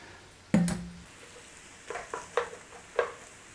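Onion and garlic sauteing in butter in a pan, a soft sizzle under a clatter of utensil strikes and several short stirring scrapes, close and fairly quiet.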